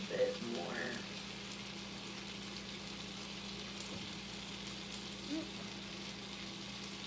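Butter sizzles softly in a pan as it is swirled, a faint, even crackling hiss that carries on throughout with a few small clinks.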